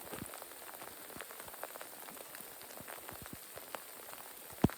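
Summer rain falling outdoors, a soft continuous patter of scattered drops on surfaces, fairly faint and steady with one sharper drip near the end.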